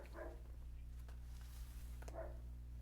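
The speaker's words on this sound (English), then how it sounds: "He's probably barking at Cynthia." A dog barks a couple of times at a distance, short faint yaps separated by a pause, over a steady low hum.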